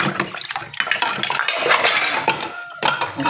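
Dishes, pots and pans being washed under running water, with continuous splashing, scraping and clinking of cutlery and crockery, close and fairly loud with no talk.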